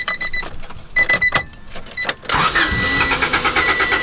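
A Honda Civic engine cranks with a rhythmic starter churn, almost catches into a brief rough roar, then stumbles and dies away, loud and close.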